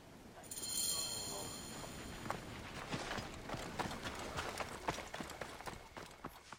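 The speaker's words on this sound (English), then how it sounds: "I'm actually going to commandeer this horse real quick, and we're going to gallop our way about 470 meters" A horse gallops in Assassin's Creed Origins with a steady run of hoof thuds, rhythmic and fairly quiet. Some brief high tones sound near the start.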